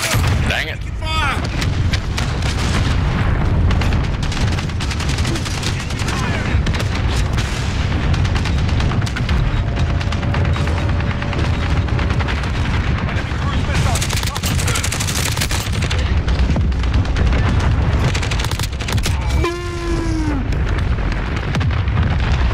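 Heavy booms and rolling blasts from cruise missile strikes in Call of Duty: Modern Warfare Ground War mix with dense gunfire, continuous and loud across the whole stretch, with voices talking over the battle.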